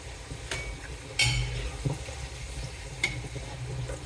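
Boiled potatoes go into a pan of Gujarati gravy and are stirred, giving soft sizzling under a few faint clinks of a spoon against the pot, fairly quiet and close.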